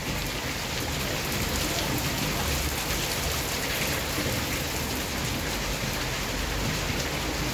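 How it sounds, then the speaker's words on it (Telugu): Steady light rain falls outdoors, a continuous close patter of drops on surfaces filling the whole stretch with even hiss, and a brief spoken word slips in once. "వర్షం తక్కువగా ఉంది కాబట్టి"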